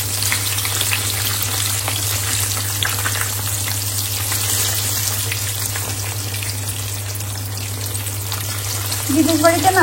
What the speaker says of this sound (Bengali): আমি চুলাটা এখানে বেগুনগুলো ভাজি করে ফেলি।